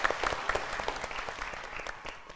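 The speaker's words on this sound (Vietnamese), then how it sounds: "Dạ, vỗ tay." An audience at a live comedy show claps steadily, a dense, even patter of many hands without voices, fading slightly at the close.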